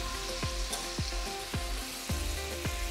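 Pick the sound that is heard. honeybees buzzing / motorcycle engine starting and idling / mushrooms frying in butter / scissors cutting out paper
mushrooms frying in butter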